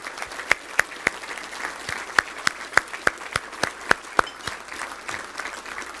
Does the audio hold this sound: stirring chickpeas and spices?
no